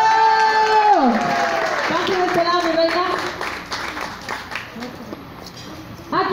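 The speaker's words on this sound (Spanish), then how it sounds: "Aplaudan, bien fuerte en el micrófono." Audience at a Kandy Show party event in Torreón clapping for contest participants, a broad wash of applause and crowd noise under an amplified MC voice calling names.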